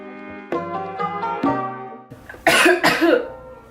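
A few sharp, harsh coughs ring out close to the microphone near the end, following a stretch of sustained tonal sound.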